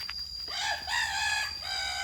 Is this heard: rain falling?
no